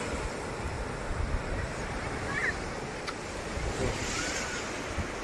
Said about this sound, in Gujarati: મોજાથી દૂર જ રહી એટલે નથી જતો